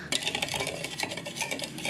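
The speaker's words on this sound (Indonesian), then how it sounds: "Aduk hingga rata." Spoon stirring warm UHT full cream milk with granulated sugar in a bowl, a quick run of light metallic scrapes and clinks repeating steadily and close, with no talk.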